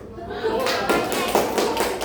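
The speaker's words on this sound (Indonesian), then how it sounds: "Gimana kalau kita tepuk-tepuk dulu?" A classroom of grade 7 students claps together in a rhythm game, a dense patter of quick slaps with a few louder accented bursts, and a teacher's voice talking over the clapping.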